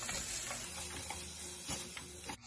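A spoon stirs cashews and turmeric powder in a pan, steady scraping and soft sizzling that continue throughout at a moderate level, with a few brief clinks and a sudden drop at the very end.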